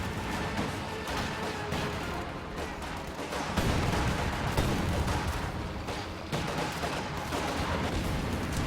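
Anti-tank gun and rifle fire in a WWII strategy video game, a dense, continuous clatter of gunshots and heavy booms layered throughout, loud and busy with overlapping bursts.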